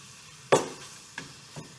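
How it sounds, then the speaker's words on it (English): Ground meat browning in a pan, broken apart and stirred with a wooden spoon: one firm scraping stir followed by two lighter scrapes over a faint sizzle. "I'm just taking my wooden spoon and as this is cooking, I'm mixing it up and breaking it apart"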